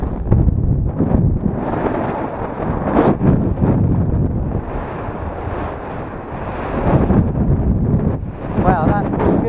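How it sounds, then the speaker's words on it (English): Strong wind buffets the microphone in loud, continuous gusts on a windy slope while a ballasted HobbyKing EZIO 800 glider is flown, with a person's voice breaking through over the roar. "it is windy"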